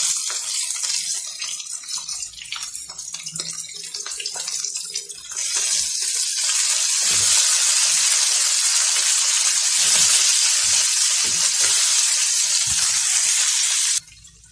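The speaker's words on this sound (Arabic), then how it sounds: "بعد ما الفراخ اتشوحت معايا هننزل بالمشروم" Mushrooms hit a hot pan of sautéed chicken, and a loud, steady sizzle of frying rises suddenly and holds close up for several seconds, with faint clatter of utensils before it and no talk.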